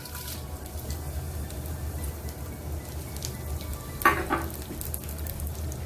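Dried red chillies fry in hot oil for a rasam tempering with a soft, steady sizzle, close by, and one sharper clatter and splutter partway through.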